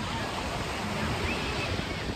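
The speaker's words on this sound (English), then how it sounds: "And that's the Pacific Ocean." Pacific Ocean surf along a California beach near a lifeguard tower: a steady, loud wash of breaking waves mixed with gusty wind noise on the microphone, continuous with no pauses.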